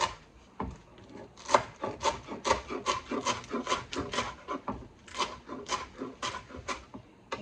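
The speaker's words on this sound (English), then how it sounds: "Chop them." Knife chopping rolled-up food on a cutting board for a Thanksgiving side dish, a steady run of close, crisp thuds and scraping strokes in uneven bursts with short pauses, no talking.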